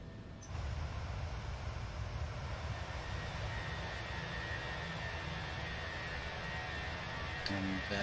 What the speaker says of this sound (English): Nice climb out from Heathrow there.